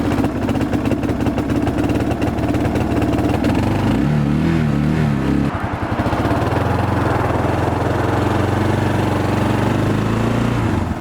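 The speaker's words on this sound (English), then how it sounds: "My bike keeps running rough and I think it's because I had bad gas" A motorcycle on a coast-to-coast trail ride idles loudly and close by, running rough on bad gas, with an uneven, sputtering engine note that shifts partway through.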